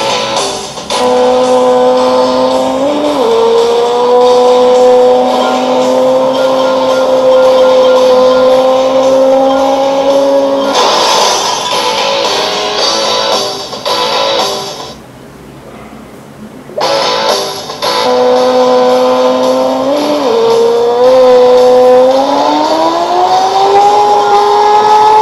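Loud, high-revving motorcycle engines whine through rising and falling pitch sweeps in an Android racing video game, with steady electronic drone and a brief drop-out partway through.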